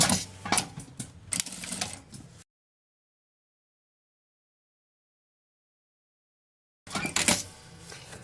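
A sewing machine stitches around the edge of a fabric bag in two short bursts of rapid mechanical whirring, separated by a long stretch of silence.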